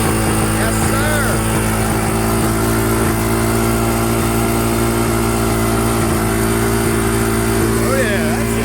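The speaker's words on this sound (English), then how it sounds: "Oh, yeah, that's just a regular idle." The engine of a Kawasaki Bayou 220 ATV idles, a steady, loud, close drone that holds an even low rumble throughout.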